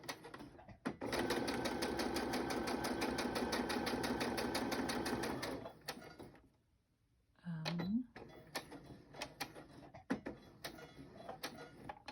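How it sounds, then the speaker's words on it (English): Sewing machine stitching all the way around a guest check tag, a loud steady rapid run of needle strokes for several seconds, then a pause and shorter bursts of stitching mixed with handling noise. "I'll sew all the way around the whole tag"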